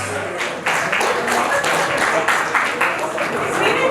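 Audience clapping at a school event, a steady crowd applause with uneven bursts that carries on without talk.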